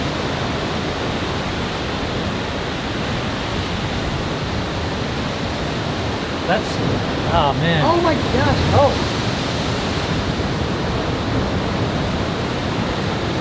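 Huge ocean surf at Gosangs roars as a dense, continuous wash of crashing water, with a man's excited exclamations breaking out partway through.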